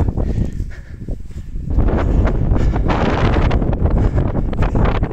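Strong mountain wind buffets the microphone during a climb near a ridge, in loud, gusty bursts that rise and stay heavy for several seconds.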